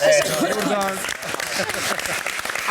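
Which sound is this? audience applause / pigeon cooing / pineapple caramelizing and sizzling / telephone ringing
audience applause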